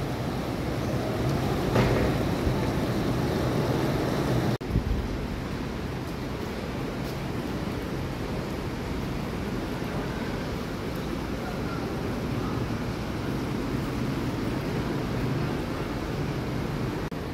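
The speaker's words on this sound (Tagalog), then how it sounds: "Medyo lumalakas na yung ulan." Heavy rain and gusting wind from Typhoon Uwan at night in San Juan, a steady dense roar throughout with a brief louder rush near the start.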